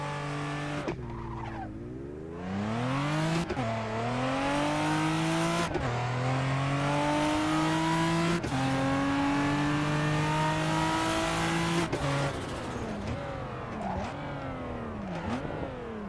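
Race car in the Assetto Corsa video game launching from a standstill: the engine flares high, drops on the clutch dump, then climbs through several hard upshifts with loud, sustained revving and no talk.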